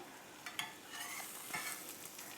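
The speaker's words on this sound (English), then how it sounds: "And you can just hear them sizzling." Black bean veggie burgers sizzle steadily in a hot pan, a soft continuous crackle with occasional louder pops, quiet and close with no talking.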